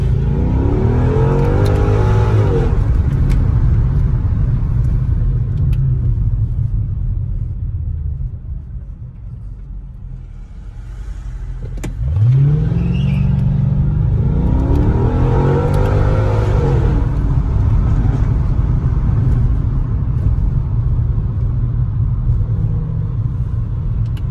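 A Mercedes-Benz C55 AMG engine revs up loudly twice, rising in pitch with each acceleration, separated by a brief quieter lull, with a deep rumble throughout.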